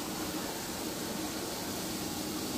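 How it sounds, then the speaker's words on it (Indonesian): Steamer pot on a home stove giving off a steady, loud, even hiss of steam, continuous broadband rushing with no talk over it. "Ketika panci kukusan sudah beruap begini"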